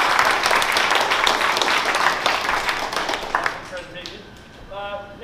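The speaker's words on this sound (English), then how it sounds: "give a great big round of applause to Hagit" Audience applause for a speaker after a big data analytics talk, a dense round of clapping that swells and then thins out, giving way to a voice speaking near the end.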